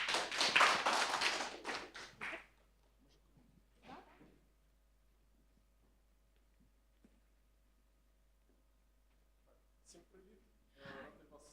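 A room of people gives a round of applause for a speaker at a founders program event, a short burst of clapping that fades out after about two seconds, followed by faint knocks and voices.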